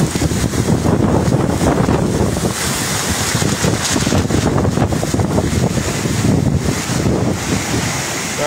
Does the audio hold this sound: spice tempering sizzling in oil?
no